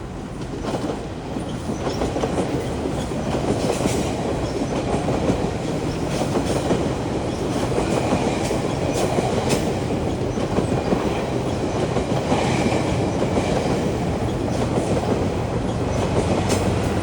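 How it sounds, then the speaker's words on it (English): A Kitchener-bound GO commuter train with an older cab car rolls past close by, a steady loud roar of wheels with clickety-clack over the rails throughout. "here's the Kitchener bound train with one of the older cab cars"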